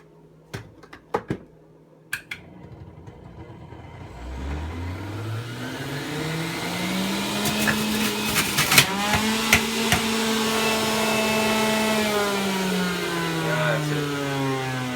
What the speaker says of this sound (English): I'm just going to go ahead and juice this extra piece of ginger and add it to the carrot